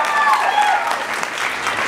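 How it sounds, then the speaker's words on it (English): Audience applause at a speaking event, steady close crowd clapping for about two seconds with no voices over it. "Give a round of applause for my parents."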